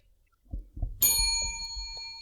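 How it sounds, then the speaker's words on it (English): A cleansing bell struck once in a garden setting, ringing out with a bright, sustained metallic tone that slowly fades, after a few soft knocks and rustles. "that's a cleansing bell"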